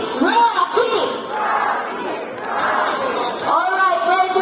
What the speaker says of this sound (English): Let's cheer for Rocky.